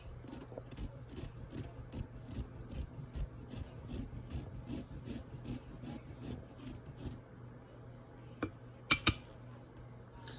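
A handheld zester rasps rhythmically across a lime, steady scraping strokes repeating close by for several seconds, then stopping, followed by a couple of light knocks.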